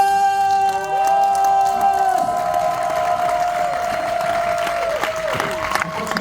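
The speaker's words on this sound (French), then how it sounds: "veuillez accueillir avec les applaudissements qu'il faut Mister l'abbé, le prêtre, Monsieur Bruno Alv" An audience at a comedy night applauds continuously throughout, with music playing loudly over the clapping.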